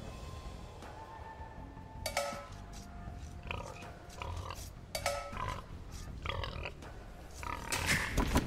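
Wild boars grunting in the strategy game Age of Empires II: Definitive Edition, low snorting grunts repeating over a steady ambient game bed, with brief bright chimes and no speech.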